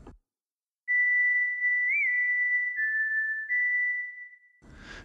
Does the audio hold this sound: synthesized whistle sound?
yes